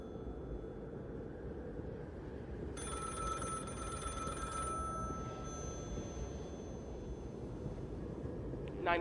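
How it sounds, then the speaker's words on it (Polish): An old-style telephone bell rings in The Cabin Factory video game, one two-second ring over a low, droning ambient background. "A to już nie jest anomalia, skoro coś dzwoni?"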